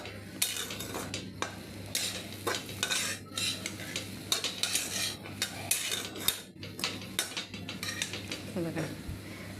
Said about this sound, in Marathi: हे बघा, मी नॉनस्टॉप परतते सर्व बेसन